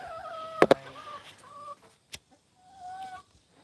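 Backyard chickens cluck close by in short, uneven calls, with a couple of sharp bursts early and a few scattered clucks afterward, loud against a quiet background with no talking.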